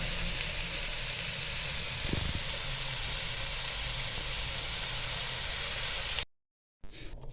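Noodles go into a pan of frying vegetables for chicken chow mein, raising a loud, steady hiss of sizzling that carries on evenly, with a faint thump as they land and a brief dropout near the end.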